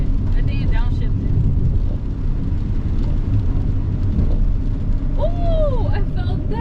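Nissan 370Z engine heard from inside the car through a downshift, a loud steady cabin rumble with a brief rising rev and whine near the end, voices chatting over it.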